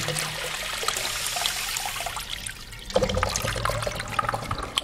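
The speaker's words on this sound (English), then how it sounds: "Sloan flushometer with the push button and the, there, it automatically flushed." An American Standard toilet with a Sloan flushometer flushes automatically in a public restroom, a steady rushing of water that surges louder partway through and continues with splashing and trickling.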